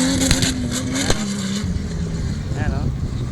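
Powerful safari vehicle engine laboring uphill, a steady low drone with rising harmonic tones, mixed under people talking nearby.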